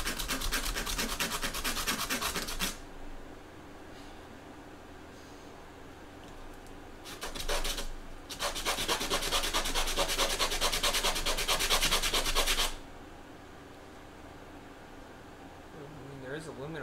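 Sandpaper rubbing an aluminum ball in two long bursts of gritty, rhythmic scraping, close and loud, separated by quieter gaps with brief speech.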